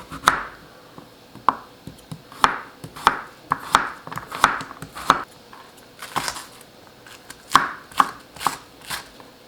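A kitchen knife chops radish on a cutting board for beef radish soup, with crisp, uneven knocks repeating close by in irregular bursts and no talking.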